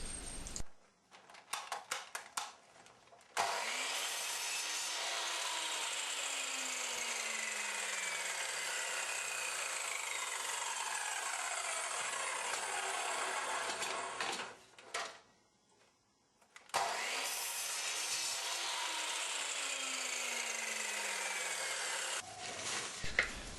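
A drop saw cuts a square of wood in a workshop, with a loud, continuous buzzing rasp that runs nearly twenty seconds and breaks off only briefly near the start and the middle.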